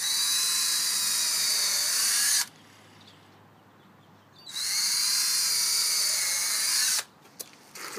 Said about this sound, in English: So I'm going to basically drill the holes out.